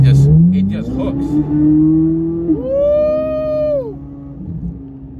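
A 2023 C8 Corvette Z06 accelerates hard, its engine note climbing steadily and then rising to a high, sustained wail before easing off, heard from inside the car with speech over it.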